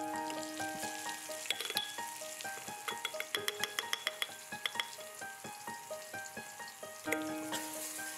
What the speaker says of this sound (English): We will stir it continuously and cook it until it darkens and becomes fragrant